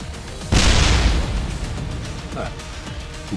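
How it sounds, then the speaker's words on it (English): A small grenade disguised as a cigarette bursts in the action game Like a Dragon Gaiden, one loud booming blast that fades into a rumbling tail amid game sound. "Firefly are these unassuming cigarettes that function as mini grenades."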